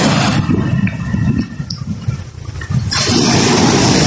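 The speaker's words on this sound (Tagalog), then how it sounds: "ang alon sa gutter, oh" Floodwater surges through a street gutter at night, a loud rushing roar that eases briefly in the middle before swelling back to full force.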